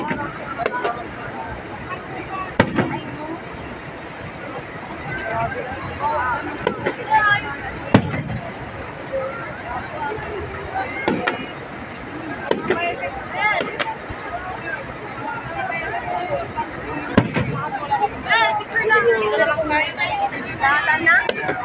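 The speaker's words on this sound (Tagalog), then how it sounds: "Araw-araw may may pa-fireworks na." Distant fireworks at the Enchanted Kingdom theme park pop and bang at irregular intervals against wind noise, with people chattering in the background throughout.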